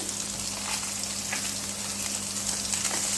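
Fish pieces browning in a hot pan, a steady close sizzle and crackle of frying that runs unbroken throughout, with occasional faint stirring ticks and no voices.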